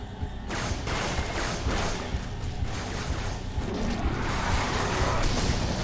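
Shotgun blasts in the Halo 3 campaign amid a firefight, several heavy booming shots with whooshes and crashing impacts over continuous battle noise, fairly quiet overall.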